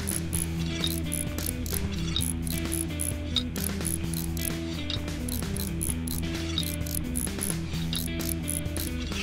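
Ratchet wrench clicking steadily as screws are fastened in Train Mechanic Simulator 2017, a dense run of rapid mechanical ticks and gear-like whirring throughout, loud and continuous with no talk.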